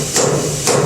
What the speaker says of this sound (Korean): 지금 여기는 세게 물려야 되니까 망치도 2번 타격하고